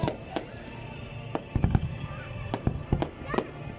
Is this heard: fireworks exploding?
yes